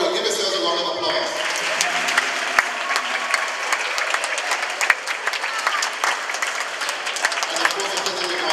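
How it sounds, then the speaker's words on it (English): A school audience of primary-school children applauds in a dense, sustained burst of clapping lasting several seconds, with some voices mixed in. "Give yourselves a round of applause."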